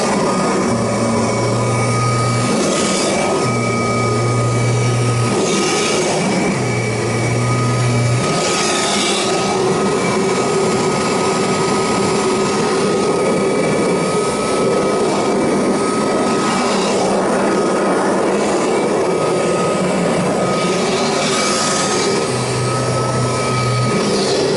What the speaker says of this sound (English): Alright, it is in stair vac cleaning mode.